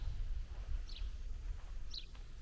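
Birds call outdoors in nature on the grounds of the Nikola Tesla birth house museum, with two brief, faint chirps rising over a steady low outdoor rumble.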